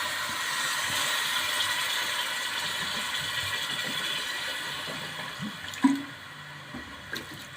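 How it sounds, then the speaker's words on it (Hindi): Water pours steadily into a pot of mutton in a home kitchen, a continuous rushing splash lasting several seconds with a brief clatter near the end. "तो तकरीबन 2 कप मैं इसमें पानी के डालूँगी।"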